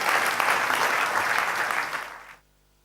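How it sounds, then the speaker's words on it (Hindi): A seated audience at a Brahma Kumaris Diwali public programme claps warmly and continuously to welcome a speaker to the stage, the dense applause fading out abruptly into silence near the end. "तो हम सभी खूब तालियां बजा के उनका स्टेज पर आमंत्रित करें"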